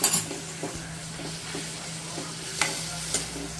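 Tomato gravy for a corn and capsicum sabji cooking in a pan: a low, steady bubbling sizzle, with a few soft scrapes and clinks of a spoon stirring against the pan, and no talking.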